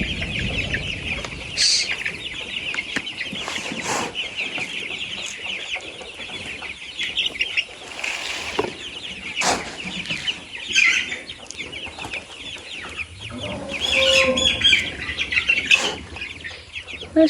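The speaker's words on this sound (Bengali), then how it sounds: "শুধু মুরগিগুলা শুধু ঝগড়া করে মুরগি মানুষের মতো" Chickens in a farm shed, about twenty-two days old, cluck and squawk in a busy squabbling chorus, with sharp close calls, brief flapping bursts and a louder scuffle near the end, no talk.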